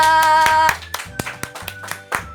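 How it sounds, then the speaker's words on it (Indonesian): Classroom clapping for a student group after their presentation, a few sharp claps at first, then scattered, sparse hand claps from a small group of pupils, fairly close. "tepuk tangan buat kelompok Andika"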